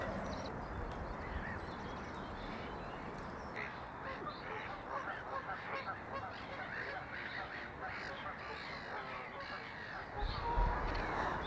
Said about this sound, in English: I just love hearing them all like waking themselves up